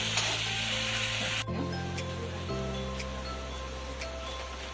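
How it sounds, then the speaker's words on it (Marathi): Chilies frying in hot oil give a bright, steady sizzle with stirring scrapes, loud at first then settling a little, with a low hum running underneath and no talking. "मिरचीचा कच्चापणा निघून जाईपर्यंत तेलामध्ये चांगली परतून घ्यायची."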